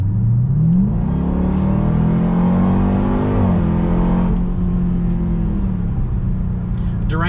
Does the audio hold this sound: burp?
no